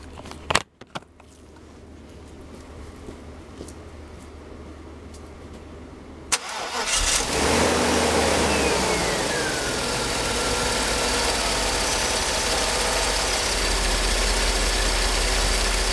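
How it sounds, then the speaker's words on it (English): A Mercedes 500SL with a throttle actuator connected cranks and fires after a few clicks, then settles into a steady, close engine idle that holds for the rest of the clip. "So let me go ahead and start the car."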